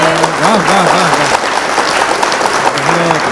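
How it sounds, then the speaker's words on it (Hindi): A crowd at a Hindi poetry gathering in Raigarh, Chhattisgarh applauds loudly and continuously while a voice speaks over the clapping. "यकीन मानिए मुझे इतने तालियों की उम्मीद नहीं थी आपसे"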